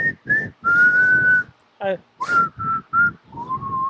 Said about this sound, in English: I just whistled.